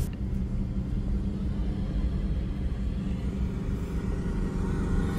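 A Suzuki Jimny JB74 3-door driven on the beach at Parangtritis, a steady low engine and road rumble heard from inside, with constant wind noise and no clear talk.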